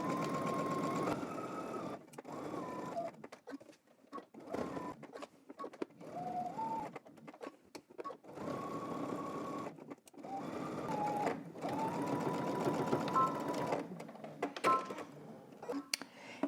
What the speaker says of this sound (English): All right, we're gonna head to the sewing machine.